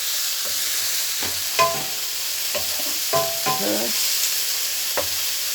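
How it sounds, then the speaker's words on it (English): Chopped onion and spring onion frying in a pan with a constant bright sizzle, interrupted by several clinking, scraping stirs of a spoon; a voice briefly speaks once. "until the onion is softened and the spring onion softened and cooked"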